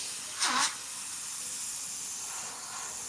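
An airbrush sprays paint in a single short hissing burst lasting about a quarter second, then fades to a faint steady background hiss.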